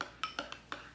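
A utensil stirs a black pepper mixture in a bowl, producing four or five quick clinks and scrapes against the dish, close and faint with no talk.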